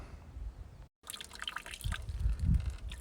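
Water trickles and drips steadily from South Sandia Spring in the Sandia Mountains, a close, continuous gurgle with a brief dropout partway through and no talking.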